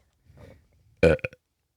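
A loud, close burp erupts after a brief low murmur, followed by a couple of short gulping tail-off sounds.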